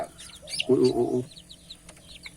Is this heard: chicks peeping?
yes